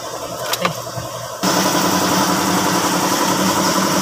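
A Toyota Wigo's engine starts up about a second and a half in, then settles into a steady, close idle during an oil change.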